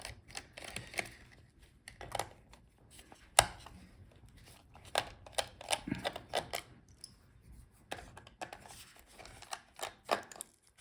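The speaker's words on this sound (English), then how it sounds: "So unscrew the screws." Small screws are backed out of the battery inside an HP 15 laptop, giving faint, scattered clicks and light metallic ticks at close range, with brief handling knocks between them.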